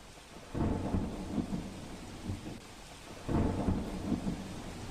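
Rain falls steadily over Veraval, Gujarat while two rolling rumbles of thunder swell and fade a few seconds apart, fairly distant and without voices.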